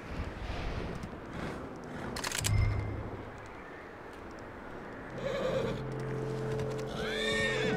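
A horse in the Red Dead Redemption 2 video game whinnies and snorts over outdoor ambience, with a sharp burst and a longer neigh later, fairly quiet in the mix.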